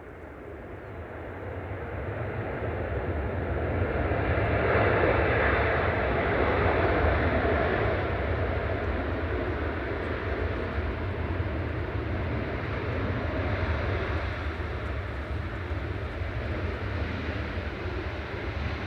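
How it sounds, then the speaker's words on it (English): A Qatar Airways Boeing 787-9 touches down at Manchester Airport, a fairly faint, distant rumble and roar that rises gently and stays steady, with no talking. "Qatar Flight 23 from Doha, touching down A7BHR."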